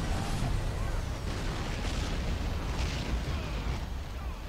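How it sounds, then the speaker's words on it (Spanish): An explosive shell blast in the Men of War strategy game, a dense, sustained roaring rumble filling the whole stretch with scattered crackling debris. "Tremenda explosión que le he metido aquí con la bala explosiva"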